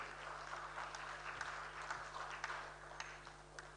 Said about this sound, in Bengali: জোরে জোরে হাততালি দেবেন